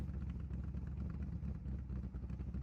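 A car engine idles in a video game, a steady low mechanical rumble with slight rhythmic clatter, faint and continuous throughout with no talk.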